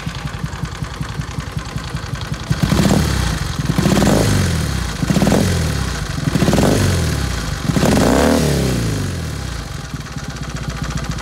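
A Suzuki Hayabusa Turbo motorcycle engine, just fitted with new pistons, idles loudly up close, then revs in about five sharp, rising bursts, each dropping back toward a clattering idle.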